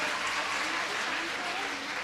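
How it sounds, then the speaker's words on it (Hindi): An audience claps loudly and continuously in a hall, a dense wash of applause filling the short stretch, with a voice briefly audible over it. "जोरदार तालियां, जोरदार।"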